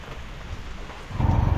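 Rain falls in a steady broadband hiss that swells louder toward the end, close and without voices.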